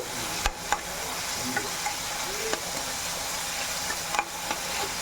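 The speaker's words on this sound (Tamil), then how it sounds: "பாருங்க தக்காளியும் நல்லா வதங்கிடுச்சு" Tomatoes soften and sizzle in a pan as they're sautéed for a tapioca poriyal, a steady soft frying hiss with occasional scraping stirs and clicks of a spoon against the pan.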